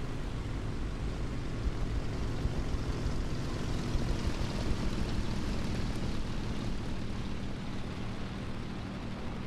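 Propeller aircraft engine droning in War Thunder tank battle gameplay, a loud steady low rumble with constant roar holding for the whole stretch, no talk.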